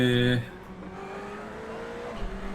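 A Ferrari GT3 race car in the iRacing sim at Daytona accelerates, a sustained engine tone rising after a brief louder burst at the start, with a voice talking over it.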